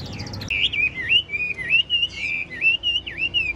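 A caged songbird sings close by, a continuous run of bright, rising and falling whistled phrases with short dips between them over a faint room background.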